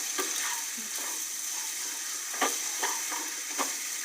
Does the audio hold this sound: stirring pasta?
yes